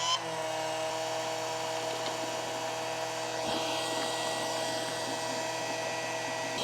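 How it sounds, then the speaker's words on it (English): A power drill fitted with a mixing attachment stirs a bucket of compost tea, giving a steady, fairly loud whirring whine that runs continuously for several seconds up close with no talking. "The idea of running a drill with a mixing attachment is to fully extract all the microbes out of the Johnson Sioux compost"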